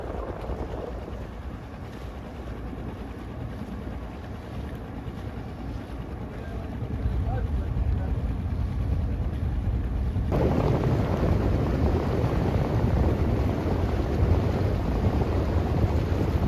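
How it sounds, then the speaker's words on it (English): A sailboat motor sails into headwinds on the way to the island of Texel, with a steady engine drone under strong wind buffeting the microphone and rushing water. The noise grows louder partway through and continues steadily with no voices. "we had to do a bit of motor sailing to make it in time for dinner on the island of Texel"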